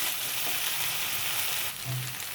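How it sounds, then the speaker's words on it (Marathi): Raw banana pieces sauté in a pan for a Malvani-style vegetable dish, giving a steady, close hiss of frying and faint stirring scrapes. "थोडा वेळ असं परतून घेते जरा."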